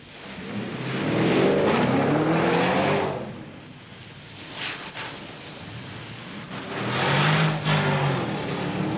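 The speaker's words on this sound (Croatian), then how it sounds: "za vas danas testiram Porsche Cayenne" A 2003 Porsche Cayenne S SUV drives past in wet weather, its engine and tyre noise swelling loudly twice with a quieter stretch between.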